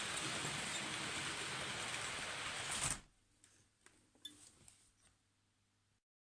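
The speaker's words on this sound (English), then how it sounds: "this time I'm trying it on full power with a Gauge Master feedback controller" A Hornby Gresley 1930s model locomotive runs at full power on a Gauge Master feedback controller, giving a loud, dense whirring rush for about three seconds, then stopping abruptly into quiet with scattered small clicks.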